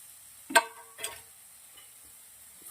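Green pigeon peas stirred into a spiced masala for bhakarwadi and dry-roasted in a pan: two short, close scraping stirs, then near quiet.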